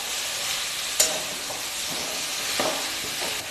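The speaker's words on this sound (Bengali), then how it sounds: "এবার আমি এর মধ্যে মিশিয়ে দিচ্ছি ভেজে রাখা আলু আর সিদ্ধ করে রাখা এঁচোর।" Fried potatoes and boiled young jackfruit being stirred into sizzling fried spices in a pan, an even close frying hiss with a few distinct scraping stirs and a sharp clink near the start, no voices.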